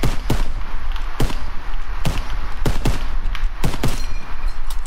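A rapid string of sharp gunshots in the World War II shooter Call of Duty WWII, about ten close, loud reports fired at an uneven pace over steady battle noise.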